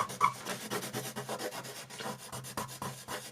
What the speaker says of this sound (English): So if I had a colour pencil, I could do